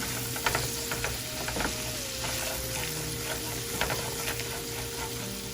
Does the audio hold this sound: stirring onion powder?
yes